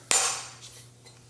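A single sharp knock as the butt of a knife flattens a vanilla bean on a kitchen surface, followed by a soft decaying rustle and a couple of faint light taps.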